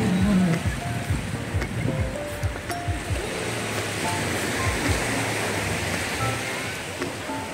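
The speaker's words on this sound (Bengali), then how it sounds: "আর খাওয়া দাওয়া সেরে আমরা সমুদ্রের পাড়ে চলে এসেছি।" Sea waves wash onto the beach at Dublagadi, Odisha, a steady rushing surf with low rumbling swells that holds for the whole stretch and carries no voices.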